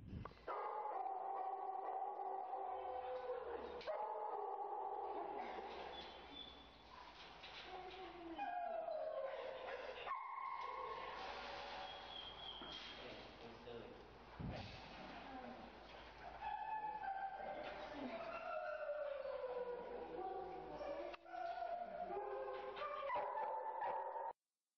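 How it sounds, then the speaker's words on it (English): A frustrated shelter dog barks, howls and whines in repeated bursts, loud and fairly close, with pitch rising and falling throughout a noisy kennel setting. "We're going to watch our first frustrated dog here."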